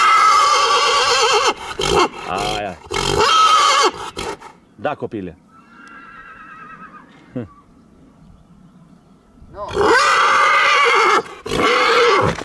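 A stallion in rural Cluj, Romania, gives a couple of loud, close whinnies between bursts of speech, with people talking before and after the calls.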